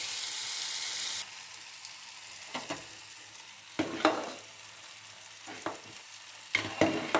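Karonda berries with salt cook in a pan, a soft continuous sizzle broken by occasional scraping stirs, close and moderately loud with no talk.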